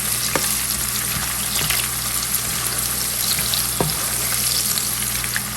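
Onions frying in a pan for a smoky qeema, a steady close sizzle with occasional stirring clicks and scrapes throughout, no voices.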